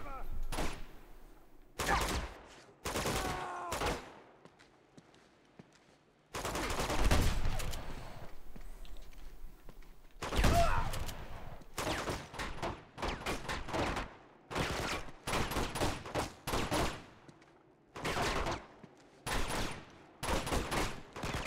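Bursts of gunfire from the video game Uncharted 2 come in repeated volleys and rapid strings, loud, separated by short quiet gaps, with a voice talking between some of the bursts.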